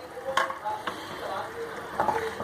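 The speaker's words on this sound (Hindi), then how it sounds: "तो अभी हम इसको भून लें, फिर 5 मिनट और पकाया है।" Poppy seed (khashkhash) chutney roasting in a pan, with a steady soft sizzle and occasional scraping stirs of a spoon across the pan, close and continuous.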